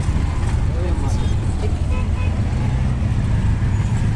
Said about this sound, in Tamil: இந்த ரோட்டில் போய் இவ்வளோ டிராஃபிக்கு